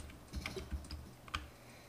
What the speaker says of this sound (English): Sorry if you can hear the keys clacking in the background.